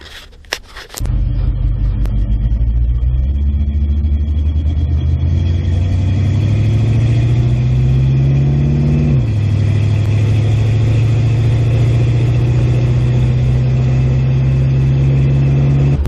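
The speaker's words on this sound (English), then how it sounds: "here we are driving around town. Making sure it's all good to go." A 1972 Monte Carlo fresh from a rear axle replacement drives through town, its engine a loud, steady drone heard from inside the car, rising in pitch as it accelerates, dropping briefly after a shift, then holding steady.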